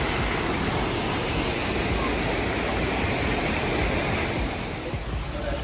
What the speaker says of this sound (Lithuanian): Ten va krioklys.